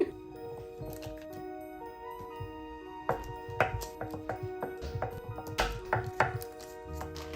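A food processor working shortbread dough with cubed butter and vanilla: irregular chopping thuds and clatter that grow busier and louder partway through, with a faint steady tone underneath.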